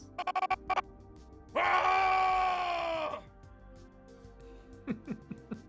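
Reused screams voice the monster character Fugamon in an abridged Digimon Tamers parody: short vocal bursts, then one long, strained, tonal scream lasting over a second, then a few trailing moans.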